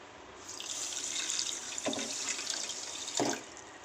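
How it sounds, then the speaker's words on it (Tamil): Water runs steadily into a pan of sugar for gulab jamun syrup, a continuous splashing pour with a couple of brief thuds, fairly close. "நீங்கள் எந்த அளவுக்கு சுகர் எடுக்கிறீங்களோ அந்த அளவுக்கு தண்ணி சேர்த்துக்கோங்க"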